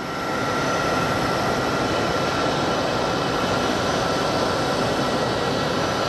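A jet airplane passing at Sky Harbor International Airport, a broad steady roar that holds loud and even throughout, with no voices.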